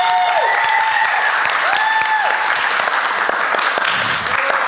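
Audience applause welcoming the first guest onto a live-streamed recovery show: steady, dense clapping from a crowd that fills the whole stretch, with a few brief voices and whoops over it.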